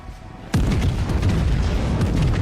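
A heavy naval gun salvo booms out loudly in World of Warships as the battleship Queen Elizabeth fires, a sudden deep blast followed by a sustained rumbling roar that fills the rest of the moment.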